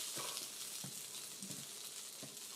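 Bread drizzled with a little oil toasting on a hot griddle for cheesesteaks, giving a steady broadband sizzle with faint scattered pops and crackles throughout, no talking.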